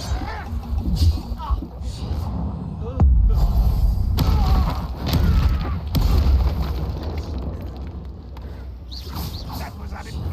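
Incendio fire spells blast in Hogwarts Legacy, several heavy low booms and bursts with rumbling tails over game effects, while someone speaks throughout.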